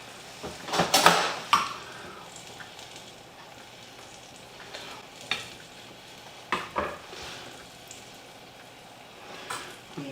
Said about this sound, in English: Just take those potatoes and give them a little toss around with that butter and that parsley